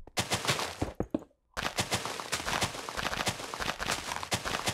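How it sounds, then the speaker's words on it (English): Rapid, evenly spaced clicky block-breaking hits from Minecraft as a patch of grass blocks is destroyed, a dense run of sharp pops with a brief pause before the stream resumes, no talking. "we're going to destroy the rest of the area of grass right here"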